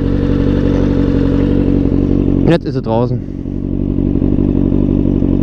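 A motorcycle engine drones steadily and loudly while riding, a constant low rumble with wind noise throughout, briefly overlaid by someone speaking in German.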